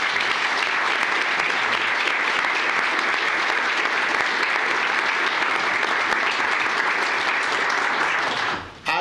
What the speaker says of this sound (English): Let's give that team a round of applause